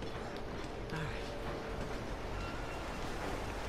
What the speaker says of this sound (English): On a moving train?